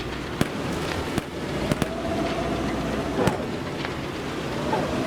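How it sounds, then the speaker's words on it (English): Artillery explosions in the PC tank game Gunner Heat, played with a Marder A1: several sharp, sudden blasts land at intervals over a steady rumbling background of battle noise and engine drone. "Drop more artillery on the forest beyond."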